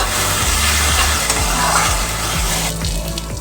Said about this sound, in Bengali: লবণ আবার আমি ভালো করে কষিয়ে নেব